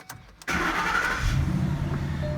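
A Ford Mustang GT 5.0 V8 cranks and fires up, a short starter burst followed by the engine catching and settling into a steady rumble nearby, with no talking.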